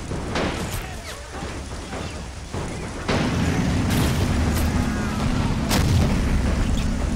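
A tank fires its main gun in Men of War: Assault Squad 2 on a town map, with booming artillery-like blasts among ongoing battle noise and a steady low rumble.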